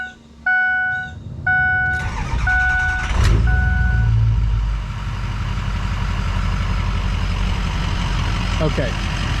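Ford 6.0 Powerstroke diesel truck engine cranks over and catches, settling into a steady loud low rumble at idle, with a few electronic chimes beforehand and brief voices nearby.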